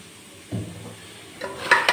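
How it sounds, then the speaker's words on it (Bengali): Spice paste and oil being worked into raw chicken by hand, a brief soft squelch followed by a pause and then a few wet, sticky mixing sounds. "মশলাটা ভালো করে চিকেনের সাথে মেখে নিচ্ছি।"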